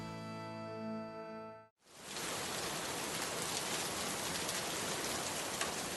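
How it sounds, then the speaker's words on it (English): Steady, dense rain pours down close by, a constant hiss of drops hitting surfaces that starts abruptly after a brief tonal hum and continues unbroken. "But today it's a rain out."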